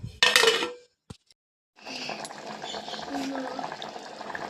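A lid clatters onto a pot of mutton curry seasoned with salt, chili and water: a loud metallic clink-and-rattle up front, a brief tap after, then a steady low simmering hiss in the background.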